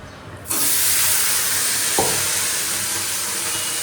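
Eggplant dropped into hot oil and set to fry, a sudden loud, steady sizzle that starts abruptly and holds on, with a brief clink partway through.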